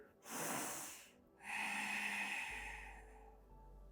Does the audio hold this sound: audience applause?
no